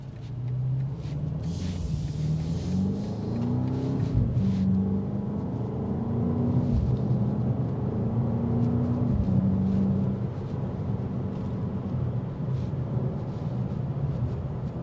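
A BMW X5 M Competition SUV drives and accelerates, its engine rumbling steadily with rising and falling tones as it pulls through the gears, heard from inside the cabin without talk.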